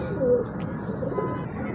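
A golden breeder pigeon gives a short, close, fairly loud coo, a low soft throaty call that fades into a quiet murmur.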